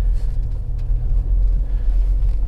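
A BMW E92 335i with a twin-turbo N54 engine and 17T hybrid turbos idles roughly while misfiring on one cylinder. It makes a steady, loud, low rumble with a faint uneven lope and no talking.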